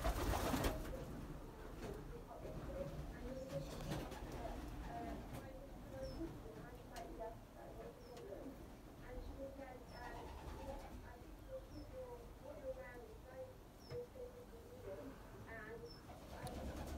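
Young racing pigeons coo softly at their loft on race day. The low, repeated calls sit within steady background noise.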